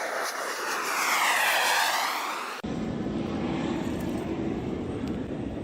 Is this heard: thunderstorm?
no